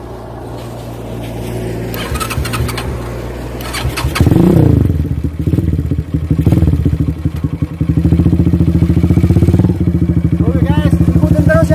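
A motorcycle engine starts with clatter, then runs and revs up, settling into a loud, close, rapid idle throb near a long bridge in Indonesia, with a voice speaking in places.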